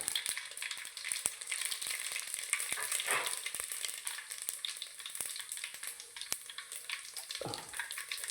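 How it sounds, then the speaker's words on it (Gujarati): Cumin crackles and sizzles steadily in hot oil for Kathiyawadi undhiyu tempering, a bright hiss with sharp pops and an occasional stirring scrape, close up and without speech. "હવે આપણા ઊંધિયાનો વઘાર કરીએ છીએ"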